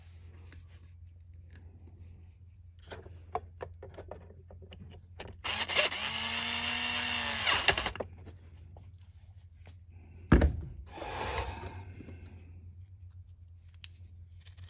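A faulty Poulan BVM200FE leaf blower, set to its first setting, bursts into a rough, uneven engine run for about two seconds, then sputters briefly again before falling quiet.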